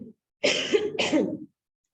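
Two close, forceful coughs in quick succession, loud and near, with a brief faint sound just before and silence after.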